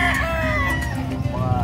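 An eight-month-old fighting rooster for sale at a pet market crows loudly and close by, one long drawn-out call that rises and falls, with a low hum of market noise beneath it.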